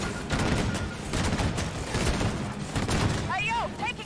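Gunfire in the shooter Disintegration during urban combat, a steady rumbling barrage of shots under ongoing talk, with whistling electronic tones near the end.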